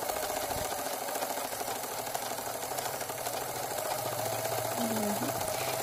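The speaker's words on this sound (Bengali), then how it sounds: "এবার 2 সুত বাদ দিয়ে আমি সেলাইটা করে নেব" A sewing machine stitching fabric, a continuous whirring mechanical drone that runs steadily throughout at moderate loudness, with faint background noise and a brief tonal sound near the end.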